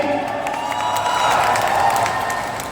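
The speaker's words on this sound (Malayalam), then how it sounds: "ഒരു കൈയടി" Audience applause and cheering fill a mall atrium during a movie promotion event, a steady wash of clapping and whoops from a large crowd lasting the whole moment, with no talking over it.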